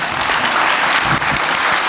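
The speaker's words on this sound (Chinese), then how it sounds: "我们是不是再次以热烈掌声谢谢两位老师" Audience at a book launch lecture applauding the two speakers, a loud, dense, sustained burst of clapping close by with no talk over it.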